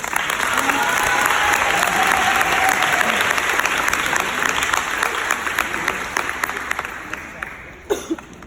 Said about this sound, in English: Please give a round of applause for Mr. Frank Brown